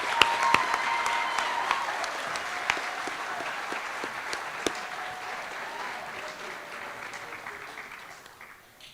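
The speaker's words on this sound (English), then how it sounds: "Let's give a round of applause to all of our recipients." Steady applause from an audience at a senior awards ceremony for recipients, a dense even patter of many hands that gradually fades toward the end, with no talk over it.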